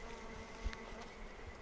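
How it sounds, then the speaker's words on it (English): A single honey bee buzzes close around a beekeeper's veil during a brood inspection, a faint, agitated higher-pitched hum that drifts steadily through the quiet outdoor air. "I've just had one bee buzzing around my veil with that higher, more agitated hum"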